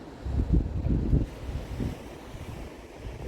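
Waves wash onto an Arabian Sea beach while wind buffets the microphone, with rolling surges early that ease into a steadier, softer roar.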